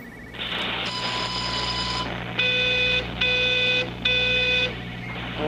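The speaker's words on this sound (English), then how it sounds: "I can hear a phone ringing, and I don't know where that's coming from." A phone rings in the video game Everybody's Gone To The Rapture, with repeated electronic tones in short regular bursts over a steady low hum, loud and close and with no talk.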